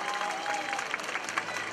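Crowd applause at an outdoor street free-hug event in front of Hongdae, a dense steady clapping from many hands, fairly close and continuous throughout.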